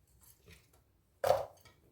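A knife slices through a potato in one crisp, close cut onto a board during home cooking, with faint soft handling sounds before it in an otherwise quiet kitchen.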